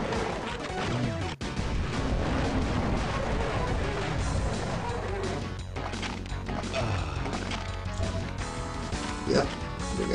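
Dense, chaotic gunfire and crashing blasts fill a Duke Nukem 3D level, with explosions and impacts layered close and loud throughout.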